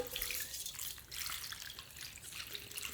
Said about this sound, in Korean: 소금이 다 녹을 때까지 살살 위에서 이렇게 부어주세요